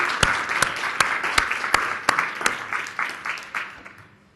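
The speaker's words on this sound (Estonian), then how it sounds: "mul ettepanek austama aplausiga selle päeva ettevalmistajaid ja korraldajaid" Audience applause thanking the organisers of a working-group conference day, a steady wash of clapping with a few louder individual claps standing out, fading toward the end.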